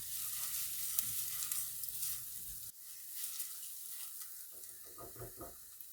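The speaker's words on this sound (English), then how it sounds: "I'll add our pearl barley, and just like with risotto rice, toast it off a little bit." Pearl barley toasting in a hot pan for a risotto, a steady dry sizzle with light stirring and a few scraping knocks near the end, close and moderately loud with no talk.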